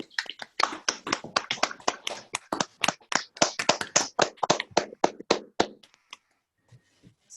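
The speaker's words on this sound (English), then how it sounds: "let's unmute and give Makoto an applause" Scattered clapping follows the end of a talk by Makoto Yokoo in an online session, a few people applauding close to their microphones in uneven bursts that thin out and stop.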